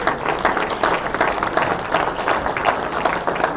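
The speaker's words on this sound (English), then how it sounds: "Ladies and gentlemen, if we could give it a big round of applause." A crowd at an auctioneers' association event gives dense, sustained applause, loud and steady throughout with no speech over it.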